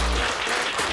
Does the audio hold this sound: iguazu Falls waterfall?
no